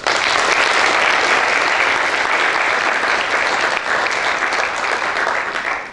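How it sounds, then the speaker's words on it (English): A panel audience at a media event bursts into loud, dense applause that stays full and sustained, tapering only slightly near the end. "Please give them a round of applause for joining us."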